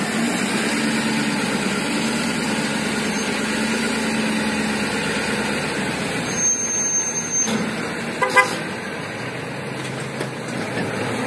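A truck engine idles steadily and continuously while the vehicle is pulled forward off a jack onto wood, with a few brief squeaks and knocks near the end and no talking.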